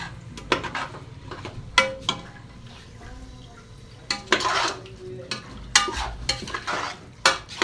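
Ripe tomatoes sautéed in a pan for homemade biryani, with repeated clanking spoon-and-pan stirring strokes over a soft sizzle, close and irregular, and no talking.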